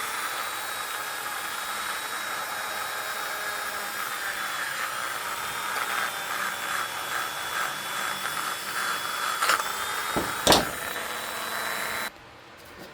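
A 1x30 belt sander running a fine-grit conditioning belt on rusty old tools gives a steady, close whine and rush for about twelve seconds. A couple of brief louder scrapes come near the end before it cuts off abruptly.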